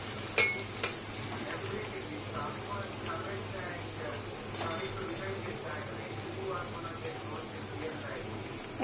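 Food frying slowly over low heat in a pan gives a steady, soft crackling hiss that runs throughout, with a few brief utensil clinks near the start.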